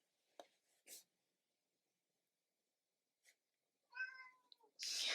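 A couple of short cat meows with quiet gaps between them, fairly close, along with a brief scratchy rustle.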